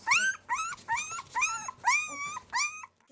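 A box of nine young male puppies whimpering and yelping in repeated high, whining cries, about six close bursts over a few seconds with short pauses between, with no talk.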